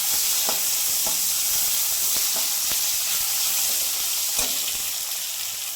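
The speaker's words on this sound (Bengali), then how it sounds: "বেশি ভাজবো না, হালকা একটু ভেজে নেবো।" Tomato fries with Kashmiri chili powder and cumin powder for a Bengali fish curry, with a continuous loud sizzling hiss and occasional soft stirring knocks, close up.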